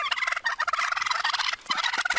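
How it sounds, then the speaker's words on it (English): Wild turkeys out in a road gobble in a dense, continuous chorus of rapid warbling calls, fairly close and steady with no voices over them. "This cop was getting bullied by some turkeys."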